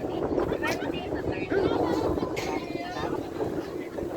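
Strong wind buffets the microphone in a steady low rumble on Monte Maria in Lobo, Batangas, with murmuring voices of a crowd in the background.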